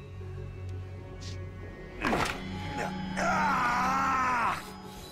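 A character in Metal Gear Solid V groaning and crying out in pain while tending a shoulder injury, with a sharp strained grunt followed by a drawn-out wavering moan over low steady background music.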